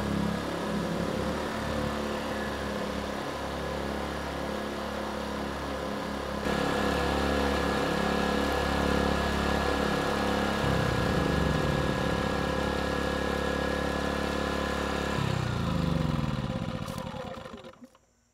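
Twin Erayak 4500PD inverter generators run steadily and loudly at close range, a dense, droning engine hum that shifts pitch partway through before the engines wind down and cut out at the end.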